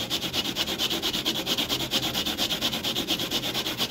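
Abrasive pad rubbing corrosion off nickel-plated metal in steady same-direction strokes for a brushed finish, a close, even back-and-forth scrubbing rhythm about six strokes a second, alone without talk.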